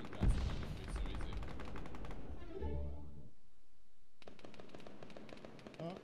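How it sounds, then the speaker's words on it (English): Rapid gunfire in a capture-the-flag shooter game, bursts of shots mixed with a voice talking over them before a brief lull and more fire. "Oh, somebody shot me."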